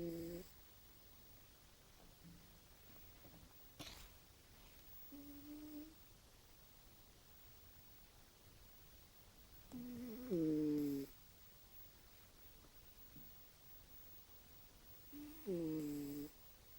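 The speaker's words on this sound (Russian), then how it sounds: "Данный кот храпит реально как человек" A cat snores loudly in deep sleep, giving separate rasping, human-like snores spaced several seconds apart against a quiet room.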